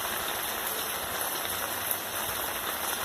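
Steady rain falls on potted plants on a wet morning in Recife, a dense, even patter of drops close by with no voices.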